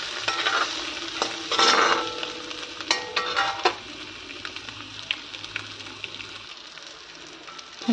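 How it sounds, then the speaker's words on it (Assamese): Chopped onion with chilli powder fries in a pan, loud sizzling with repeated stirring scrapes and clacks early on, settling to a quieter steady crackle. "ধুনীয়াকৈ ভাজিম এতিয়া মই।"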